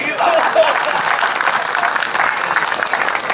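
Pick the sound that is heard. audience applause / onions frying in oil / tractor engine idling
audience applause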